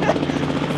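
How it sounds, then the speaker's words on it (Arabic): A helicopter flying over a street, its steady rotor and engine drone filling the short stretch at a constant level with no break. "هليكوبتر"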